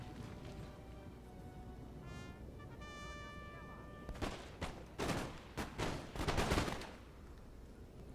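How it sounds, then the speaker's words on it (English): Massed musket volleys from troops in Napoleon Total War, a crackling fusillade of several sharp shots that builds in the second half over steady battlefield ambience and distant horn-like tones. "so we've opened fire"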